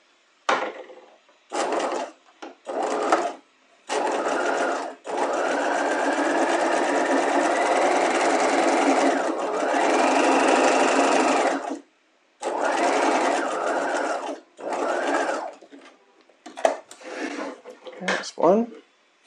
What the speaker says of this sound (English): I'm gonna stitch right down the center of that 1/4 inch